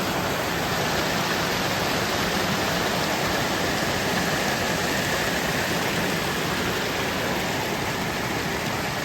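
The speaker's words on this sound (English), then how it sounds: "Another beautiful waterfall." A waterfall along the Appalachian Trail in Virginia roars in a constant, dense rush of falling water, steady and loud throughout with no voices.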